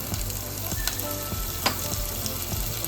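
Green chillies and crushed ginger sizzle in hot oil, a steady close frying hiss with a few soft stirring clicks and no voices.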